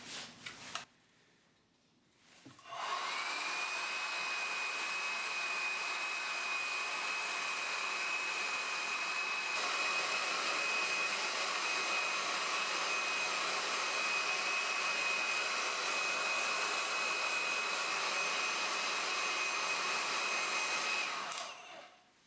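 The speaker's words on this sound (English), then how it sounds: "I'm now going to take the heat gun and I'm just going to apply some heat to the heat shrink" A heat gun blows on heat shrink tubing over a power tool flex, a loud steady whooshing roar with a high whine that starts after a short pause, runs unbroken for about eighteen seconds and then cuts off.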